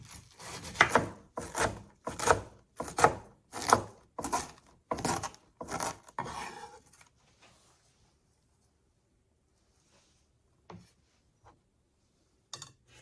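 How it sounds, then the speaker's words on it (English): A knife chops a quarter head of cabbage finely on a wooden board in a run of about eight quick, evenly spaced cuts, then stops, leaving near silence with a couple of faint knocks. "I have 1/4 of a head of cabbage, and I'm going to just cut this up fine"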